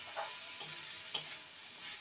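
Boiled chickpeas stirred into banana stem in a pan, a soft sizzle with a few light spoon taps and scrapes, faint and close.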